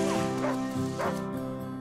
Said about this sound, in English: These are original Arctic sled dogs, the Malamute and Siberian Husky.